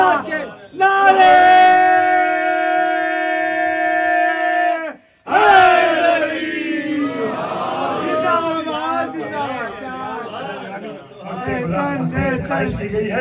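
A majlis congregation mourning the martyrdom of Imam Zainul Abidin raises slogans: one long, sustained leading call rings out, then a loud, overlapping crowd response of many voices follows in rough waves.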